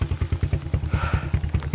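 An orange motorcycle's engine runs at a steady idle with rapid, even thumping pulses, close and loud, with faint clatter over the top, heard outdoors in a rainy forest after mushroom picking.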